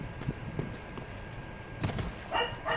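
A dog barks indoors in short, moderately loud yips and woofs, a few spaced barks, then a quick cluster near the end, over low background noise.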